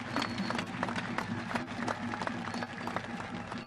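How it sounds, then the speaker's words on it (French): A crowd applauds at the Ngondo festival in Cameroon, with faint, distant, scattered clapping mixed with murmuring voices. "pour lequel je sollicite des salves d'applaudissements nourris"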